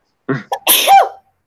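A single close, loud sneeze from a person in a quiet room, a short intake followed by an explosive burst.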